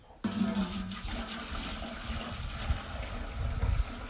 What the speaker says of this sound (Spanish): Le voy a echar entonces tantita agua.